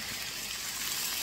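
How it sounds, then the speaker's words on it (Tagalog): Pork broth pours into a cooking pot as a steady, soft liquid gush and splash, continuous and fairly quiet, with no talk over it. "Lagyan natin ang ating pork broth."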